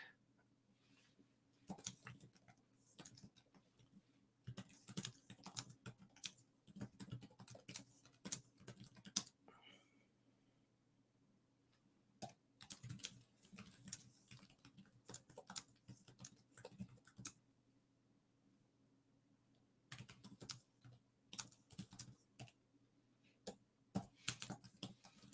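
Bursts of clicky typing on a Remarkable 2 Type Folio keyboard come in quiet, close flurries separated by pauses.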